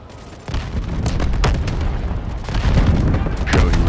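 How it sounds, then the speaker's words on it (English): Artillery fire in the video game Delta Force, loud deep booms and rumbling blasts rolling in one after another and building toward the end, with no one talking. "Artillery cover coming."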